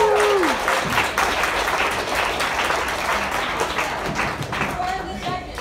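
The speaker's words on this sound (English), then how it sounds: "can we give them a round of applause?" An audience at a hackathon demo breaks into applause, with steady dense clapping filling the room and a faint voice beneath it before the clapping tapers slightly.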